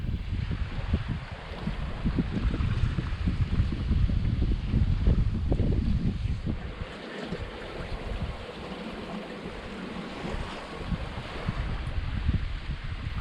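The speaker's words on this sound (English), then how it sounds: "While we are sailing so calmly downwind" Sailboat running calmly downwind through Chilean fjords, with steady wind rush buffeting the microphone over low water wash along the hull, continuous and close with no speech.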